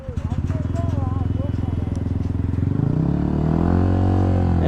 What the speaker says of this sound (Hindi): एग्जॉस्ट साउंड चेक कर रहे हो यार, कितनी खतरनाक लग रही है भाई साहब।